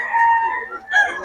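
A gamecock stag crows loudly and close at a rooster market in Bocaue, one strong crow followed by a second rising call.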